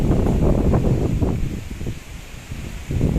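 Strong habagat monsoon wind gusts and roars against the microphone in uneven surges, loud and close with rustling, no talk.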